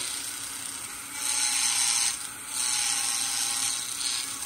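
A new drill bit carves octopus suckers into a wooden sculpture, giving two sustained grinding passes of a few seconds each, separated by a short drop in level, close and steady.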